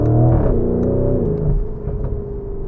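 Close, loud engine note from a Lamborghini Urus SE hybrid SUV in Corsa mode: a steady, droning growl whose pitch slides lower after a second as the engine settles.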